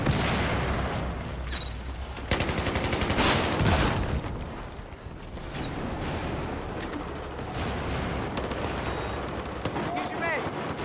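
Explosions and gunfire in Battlefield 4 online play, with loud booming blasts and rapid bursts of shots filling the whole stretch, dense and continuous, with a voice briefly talking underneath.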